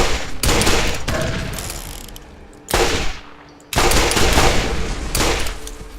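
Gunfire from the Borderlands video game, loud bursts of shots with mechanical clatter in several dense clusters separated by brief lulls.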